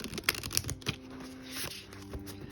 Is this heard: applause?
no